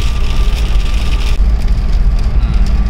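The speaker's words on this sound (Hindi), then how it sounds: "बारिश बारिश बारिश" Rain beats on a moving 2011-12 Ford Endeavour, heard from inside as a soft patter over a loud, steady low road and engine rumble that continues without pause.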